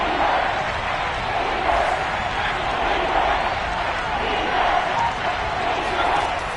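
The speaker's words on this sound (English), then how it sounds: "The crowd getting into it as we come up on a big third down." A stadium crowd roars steadily at a Cleveland Browns football game, a dense continuous wash of cheering that swells slightly ahead of a big third down, with a commentator's voice faintly mixed in.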